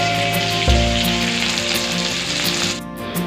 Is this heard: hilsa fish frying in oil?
yes